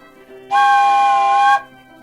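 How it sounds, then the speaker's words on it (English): A single sustained wooden train whistle, used as a Foley instrument, blows for about a second, a bright reedy chord starting and stopping abruptly, close and loud. "here I have this wooden train whistle to create that sound."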